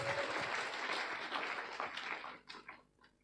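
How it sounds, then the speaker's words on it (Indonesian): Audience applause for a university dean at a public lecture, a dense burst of clapping that fills the room and then thins out and fades toward the end. "Sekali lagi kita berikan tepuk tangan yang paling meriah untuk Pak Dekan."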